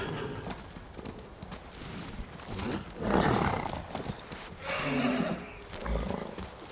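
Horse hooves clattering in a rhythmic gallop in the video game Ghost of Tsushima, with rushing wind and occasional louder swells, fairly close.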